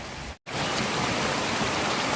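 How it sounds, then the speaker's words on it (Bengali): Steady dense rain drums on a tin roof over a house, a continuous broadband hiss with a brief gap of near silence early on, then unbroken downpour, loud and close, with no voices. "টিনের ঘরে যারা থাকেন তারা তো জানেন যে বৃষ্টি এলে একটা ঝুমঝুম ঝুমঝুম শব্দ হয়"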